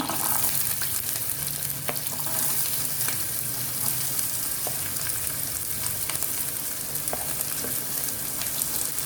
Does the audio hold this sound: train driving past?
no